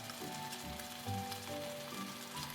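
Canned whole tomatoes stir-frying with vegetables in a pan for ragu sauce, a faint, steady sizzle with soft clattering from stirring, close by.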